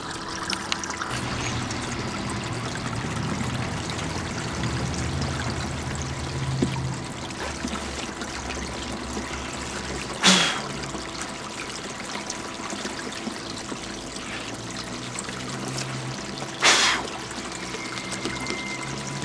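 Water flows steadily over a homemade gold sluice mat carrying sand screw concentrates, a continuous trickling and pouring wash with two brief louder splashes partway through.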